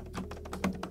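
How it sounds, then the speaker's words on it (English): Quick typing on a computer keyboard, a close, steady patter of light key taps with one slightly firmer press near the end. "just type in 2022 events"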